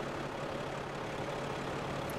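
A large parked vehicle's engine idles with a steady, even low rumble that holds constant throughout, with no voices over it.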